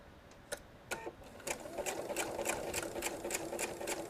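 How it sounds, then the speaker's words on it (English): A sewing machine stitching fabric for a quilt square, starting with a few separate clicks and then settling into a quick, regular mechanical rhythm of needle strokes, close by and with no talk. "So how far am I gonna sew?"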